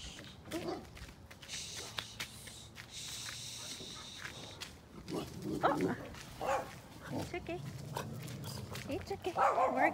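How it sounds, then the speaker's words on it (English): Big dog barking outdoors during a toddler's outdoor play, several scattered barks from moderately near amid footsteps and background noise, with voices talking over parts of it. "There's a big dog."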